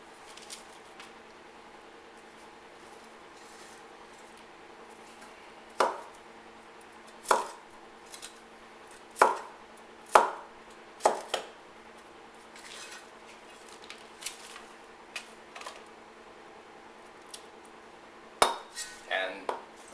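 A Chinese cleaver chops vegetables on a board in scattered sharp thunks, some single and some in quick pairs, close up over faint background hum.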